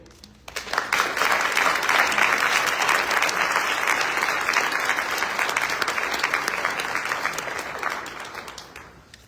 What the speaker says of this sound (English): Please give another round of applause for those beautiful remarks